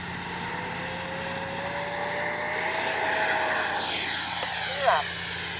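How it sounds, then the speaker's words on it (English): An FMS Integral 80mm RC jet taking off with no flaps, its turbine whine rising and sweeping in pitch as it builds power and passes. The sound swells toward the end, with a brief thump near the close. "we'll take off this time with no flaps"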